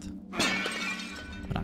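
Object smashed in the horror video game The Evil Within, a single sharp shattering crash followed by tinkling debris, with a second smaller break near the end.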